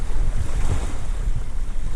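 Choppy sea waves churn and wash against the shore under strong, gusty morning wind that buffets the microphone, loud and continuous with no voices.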